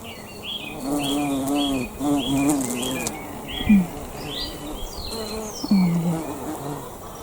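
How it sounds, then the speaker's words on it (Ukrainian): A bumblebee buzzing nearby outdoors, its drone rising and falling as it moves and passes close in several swelling bursts, with faint bird chirps in the background. "Ось там джміль сидить, бачите?"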